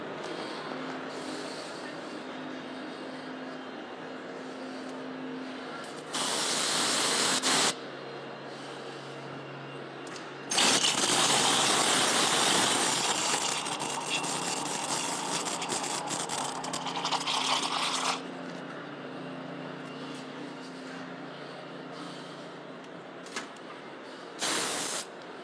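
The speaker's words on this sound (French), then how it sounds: "Je laisse mon café infuser et je vais faire chauffer mon whisky." Whisky being heated during a coffee-cocktail competition final, heard as a steady steam-like hiss that swells into louder spraying bursts, with a low hum underneath and no talking.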